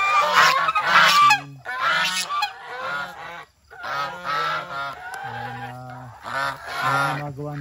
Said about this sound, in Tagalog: Mga pabo. Ayan sila.